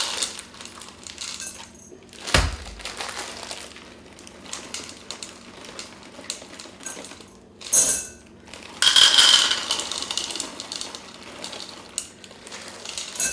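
Semi-sweet chocolate chips for cookie cutter fudge pouring and rattling into a container in short clattering bursts, with a louder rush of tumbling chips near the end, close by and without speech.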